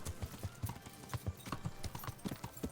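Horse hooves clip-clop in a steady trotting rhythm across a medieval game world, each footfall crisp and close over a faint ambient bed, with no talking.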